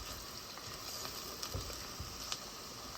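Garlic sizzling in a hot pan with red onions, a steady soft frying hiss with faint crackles and a few stirring scrapes, quiet and close.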